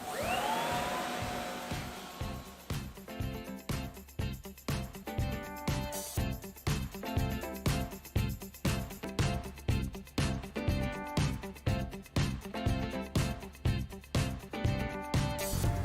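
A CT30 floor scrubber runs with a loud, steady motor whine while its brush head thumps in a rapid, regular rhythm throughout, close by with no talking.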